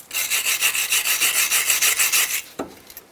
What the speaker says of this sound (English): You can use just a wire brush like this here.